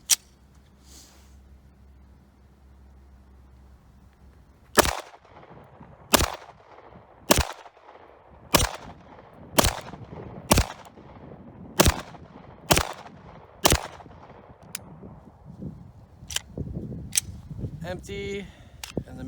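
An FMK Elite Pro Plus 9mm pistol fires a string of about ten sharp shots at a slow, fairly even pace, followed by quieter handling clicks and rattles, with some talking in the background.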